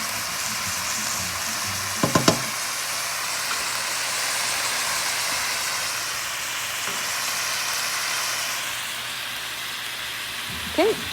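Chicken, kielbasa and vegetables for a sausage and chicken jambalaya sizzle steadily in a pan as they are stirred together, with a couple of sharp utensil clinks against the pan near the start and end.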